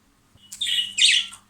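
A budgerigar gives a quick, bright chirping warble lasting about a second, close and clear against a quiet background.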